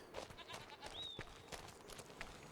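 Sheep and goats bleat softly in Farming Simulator 25, heard as faint, distant farm-animal calls over low ambient noise.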